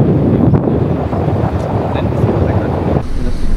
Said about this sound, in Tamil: சன்ரூஃப் ஓப்பன் பண்ணால் நல்லா காற்று வரும்.